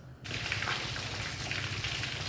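Marinated fish frying in hot cooking oil, a continuous crackling sizzle that starts abruptly after a brief moment of quiet and holds steady, close and moderately loud.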